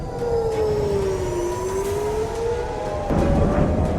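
An air raid siren wails, rising and falling in long, slow sweeps, steady and fairly loud over a constant background rumble.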